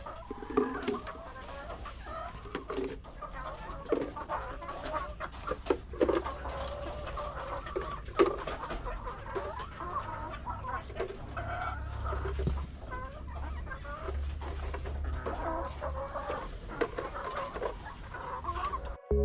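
Backyard chickens cluck continuously close by, a steady overlapping chatter of hens with occasional louder calls throughout.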